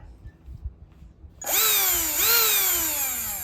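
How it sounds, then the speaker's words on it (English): After near silence, the small electric motor of an RC car suddenly whines loudly, revving up and dropping back twice in quick succession as the throttle trigger is pulled, close by. "when I pull the trigger, the motor makes a great noise"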